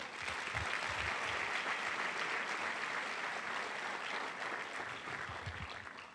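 A church congregation applauds during a sermon, a dense, sustained wash of many hands clapping together, steady throughout and easing slightly toward the end.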